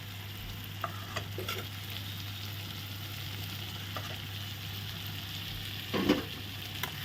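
Ground nut paste stirred into frying spices in a pan makes a soft ongoing sizzle, with a spoon scraping at intervals and a louder stir near the end; no voices.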